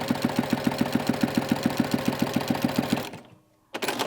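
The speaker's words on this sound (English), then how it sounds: "So I sewed right from that point right to that corner where the two strips came together." Sewing machine stitching blue quilt binding on a pouch, a fast steady mechanical chatter up close for about three seconds, then stopping briefly before starting again.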